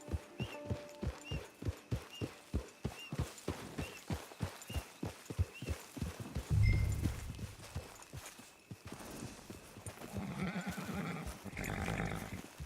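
Horse hooves clip-clop in a steady, even rhythm at close range in the video game Red Dead Online, then the pace fades and gives way to a muffled rustling background.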